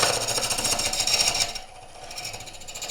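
A Woodcut ProForme hollowing tool cuts into spinning wood, giving a loud, steady rasping grind that throws constant shavings, then drops to a quieter, thinner scrape partway through.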